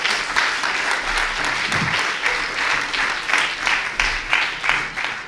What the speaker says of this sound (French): Merci beaucoup pour ce travail, on peut vous applaudir.